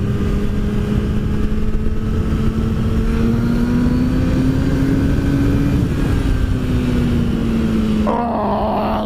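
A motorcycle engine drones loud and steady on an open road, its pitch rising gradually as it accelerates and then easing off, with a brief clunk near the end.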